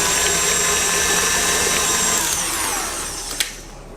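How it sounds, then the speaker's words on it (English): An electric whisk beats blueberry butter cake batter in a bowl, a loud steady motor whine that slows and fades near the end, followed by a light tap. "Whisk again."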